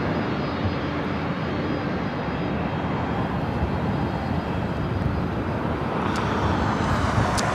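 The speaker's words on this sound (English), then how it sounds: "Next arrival is Southwest Airlines flight 3285, coming in from San Jose, California, 737 MAX 8" A Southwest Airlines Boeing 737 MAX 8 jet arrives at LAX, its engines producing a loud, steady, broadband roar close by that holds throughout and swells slightly toward the end.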